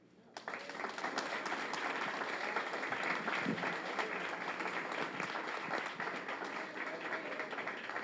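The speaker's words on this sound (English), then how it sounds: "We can do better, please. Let us give them a very, very loud round of applause." Sustained crowd applause at a Spring 2024 graduation ceremony for the Community Re-Entry Network Program, starting after a brief quiet moment and holding steady and full for the rest of the clip without any talking.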